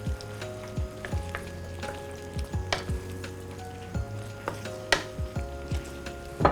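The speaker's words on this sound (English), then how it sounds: "I'm gonna stir these, and I wanna make sure that the green beans are really nice and coated with the sauce" Green beans being stirred into sauce in a pan, a soft simmering sizzle under repeated scraping and knocking strokes of the spoon against the pan, spaced roughly every half second; no talking.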